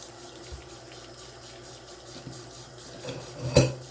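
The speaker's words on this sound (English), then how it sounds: "Run it under water first. And I'm using warm water." Warm water runs from a tap as a makeup brush is rinsed beneath it, a steady close hiss with soft splashes and a louder clatter toward the end.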